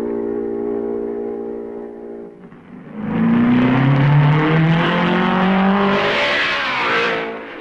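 1955 Formula 1 race cars at the Belgian Grand Prix, a loud engine whine that rises as a car sweeps close by and dominates for several seconds before starting to fade.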